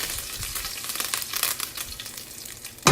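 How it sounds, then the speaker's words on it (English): Dried red chilies and curry leaves sizzling in a hot pan, a continuous close crackle and hiss with bursts of spitting, ending on a sharp clatter of the pan. "Now I want to add in my dried red chilies and curry leaves, give that another shake."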